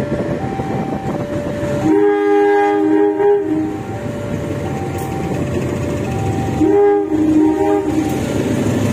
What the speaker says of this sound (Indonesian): Itu gerbong yang dimasukkan ke jalur paduk ya, yang dikirim tadi.